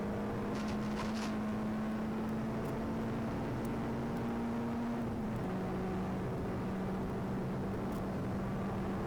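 A Peugeot 106 engine held at full throttle on the Goodwood Motor Circuit, heard on board as a steady, droning hum whose pitch dips partway through, with no talk.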